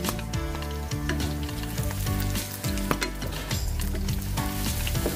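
Food frying in hot oil in a pan, with steady loud sizzling and spitting that continues throughout, mixed with repeated scraping strokes and clinks from a ladle stirring the food.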